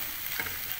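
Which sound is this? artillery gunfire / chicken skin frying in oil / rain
chicken skin frying in oil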